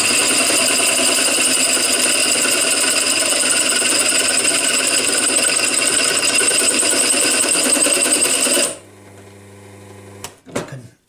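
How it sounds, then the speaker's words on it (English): A loud, steady high-pitched whir of a power drill drilling out a broken bolt runs for about nine seconds, then cuts out, followed by a couple of faint clunks. "Stop the drill with my hand, but it's certainly very hard."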